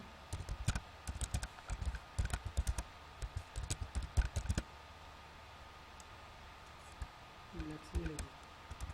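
Code being typed on a computer keyboard, with a rapid run of light key clicks in the first half, then quieter scattered taps, heard close and faint beside a room hum.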